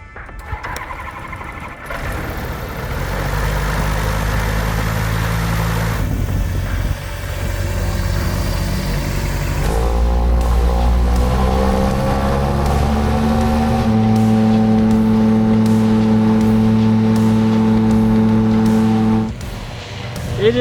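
A flying boat's engine drones loudly and steadily on its first flight in 11 years, its pitch rising and shifting as the aircraft gets going, filling the whole stretch before cutting off at the end.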